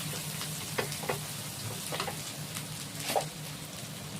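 A single onion sizzles in hot oil in a pan, a steady crackling fry with a few sharper pops and light stirring, close by and without talk.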